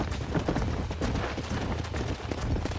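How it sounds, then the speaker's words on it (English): Wild horses gallop in Red Dead Redemption, a dense, continuous drumming of hoofbeats on open ground, close and loud, with no voices over it. "There's the horses!"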